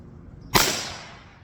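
A single sharp crack from a Marlin XT22M rimfire rifle, close and loud, with a short decaying tail after the shot.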